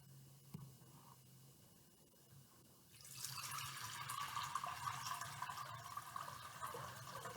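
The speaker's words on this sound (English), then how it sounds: "He put some water into a large bowl." Water poured into a large bowl: a near-silent start gives way to a sudden, steady splashing fill that continues to the end.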